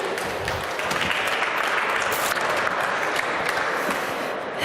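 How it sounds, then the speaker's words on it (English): Steady, dense applause from an audience at the LOGIN Startup Fair 2014 fills the whole stretch, loud and continuous, with no talk over it. "So please give a round of applause"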